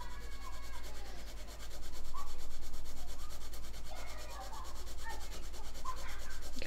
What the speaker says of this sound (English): I will get a sanding stick